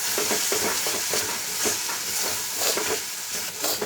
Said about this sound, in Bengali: মশলা কষানোর সময় আমি একটু ধনে পাতা দিয়ে দিলাম দিয়ে এটাকে একটু ভালো করে কষিয়ে নেব